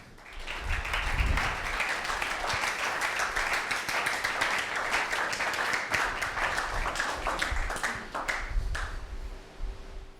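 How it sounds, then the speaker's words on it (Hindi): A church congregation claps for its youth during a sermon, a sustained round of applause with individual hand claps standing out over a low background hum. "तालियां बजाओ इन्हां लई"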